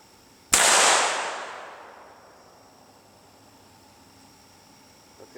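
A single loud, sharp Winchester rifle shot cracks out on a mountainside, followed by a long echo that fades away over several seconds, with a faint click near the end.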